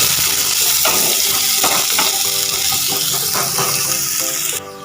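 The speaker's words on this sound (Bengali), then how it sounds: "পেঁয়াজটাকে একটুখানি লালচে করে কিন্তু ভেজে নেব" Chopped onions frying in oil for aloo chop, a loud continuous sizzle with repeated scraping stir strokes and clinks of a utensil against the pan throughout, cutting off near the end.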